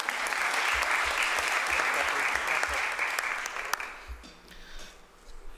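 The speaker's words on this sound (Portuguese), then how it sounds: "Salva de palmas, por favor." Loud, dense applause from the audience at a solemn Medalha Tiradentes session of the Rio de Janeiro state legislature, Alerj. It holds steady for about four seconds, then thins out and fades into scattered claps.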